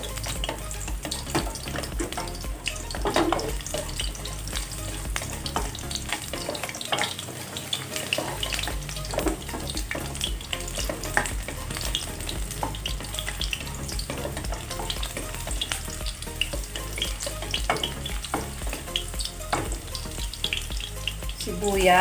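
Garlic frying in oil for Filipino chicken afritada, a loud, steady crackling sizzle that runs throughout with occasional stirring scrapes close by.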